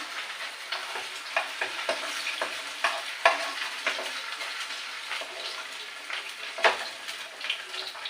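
Duck eggs fry in hot oil in a pan, a steady close sizzle broken by sharp crackles and the scrape of stirring, with no voices.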